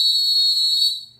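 A whistle is blown in one sustained, shrill blast that holds steady and then tapers off near the end, loud and alone.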